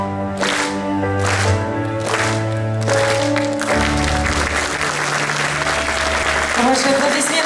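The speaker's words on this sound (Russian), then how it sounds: "Ваши аплодисменты." Audience applause at a festive concert for border guards, dense and sustained clapping filling the hall for several seconds with a voice talking over it and a musical chord underneath.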